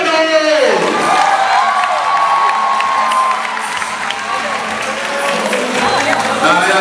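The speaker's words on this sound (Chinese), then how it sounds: "用最热情的掌声欢迎何伦高" At a 2014 campus basketball friendly at Chih Lee Institute of Technology, a loud crowd cheers, whoops and applauds to welcome a guest, a dense roar under an announcer's voice and background music.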